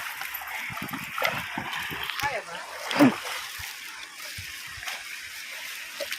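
Water splashes and sloshes in faint, irregular bursts as people wade across a river, with a louder splash near the middle and voices talking throughout.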